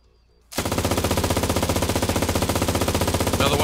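Automatic gunfire from the video game Cuisine Royale starts abruptly and holds as one loud, sustained burst of rapid, evenly spaced shots lasting about three seconds.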